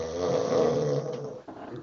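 A person imitates snoring in one long, drawn-out rasping breath that fades near the end, loud and close, with no other talk over it.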